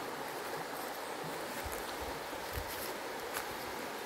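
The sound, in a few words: flowing water of a small waterfall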